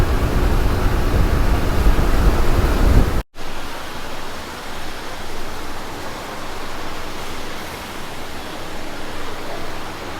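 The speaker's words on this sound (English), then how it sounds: "It's an old boat. It takes about 6 or 7 minutes to get across the water." Steady broadband rumble and wash of an old ferry boat crossing the harbour in Hong Kong on a rainy day, loud and continuous, dropping briefly to a short gap before resuming a little quieter.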